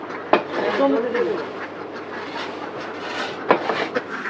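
Ducks quack repeatedly in a busy chorus on a large duck farm, with a couple of sharp knocks cutting through the flock's noise.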